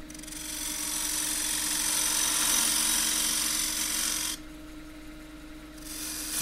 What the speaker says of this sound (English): 3/8 spindle gouge is my weapon of choice for this kind of thing.